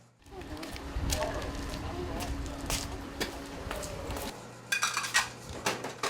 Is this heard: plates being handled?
yes